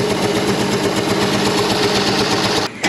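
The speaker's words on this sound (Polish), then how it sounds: "A silnik chodzi tak." A Volkswagen T5 van engine with zero compression in its second cylinder runs roughly up close, a loud uneven rhythmic chugging with a buzzing mechanical clatter that stops abruptly near the end.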